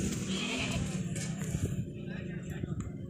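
Bleats from goats being sold for Qurbani at a sacrificial livestock market, with sheep-like cries mixed into a busy outdoor din while people talk nearby.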